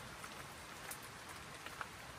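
Steady rain falls at a lakeside camp in autumn, a dense, even hiss of drops on surfaces with occasional closer patters, fairly soft and continuous, no voices.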